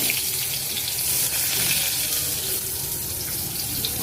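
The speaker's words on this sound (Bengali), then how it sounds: "বেগুন ভাজা বসালাম" Eggplant fries in hot oil in a home kitchen, with a steady close hiss and crackle of sizzling and no talk.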